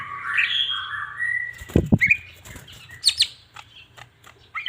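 A green leafbird (cucak ijo) sings close by in short bursts of bright, varied chirps and whistles, broken by quick squawky notes and brief pauses.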